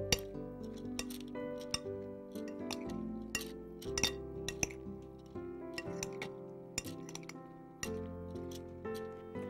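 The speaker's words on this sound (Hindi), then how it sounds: "फिर सारे फ्रूट्स को मिक्स करेंगे" A spoon clinks against a bowl while fruit salad is tossed with lemon juice: sharp, irregular metallic taps and rattles, repeated throughout over soft background music.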